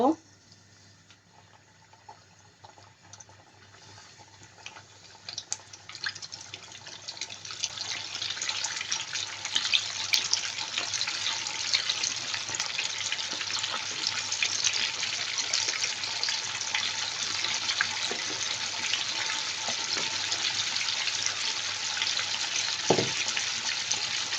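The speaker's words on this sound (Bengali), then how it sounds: "তেলটা মিডিয়াম গরম হয়ে আসলে এখন এই যে একটা একটা করে চিকেন ছেড়ে দেব।" Chicken wings frying in medium-hot oil, a steady bright hiss and crackle that builds after a quiet start and then holds evenly, with someone speaking over it.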